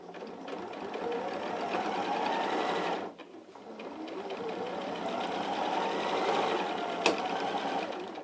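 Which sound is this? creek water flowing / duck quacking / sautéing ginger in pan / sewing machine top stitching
sewing machine top stitching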